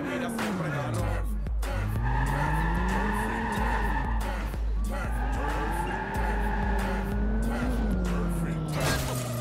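Car engine revving up and down while driving in Watch Dogs 2, with a sustained tire skid and squeal near the start, the engine loud and steady throughout under faint background voices.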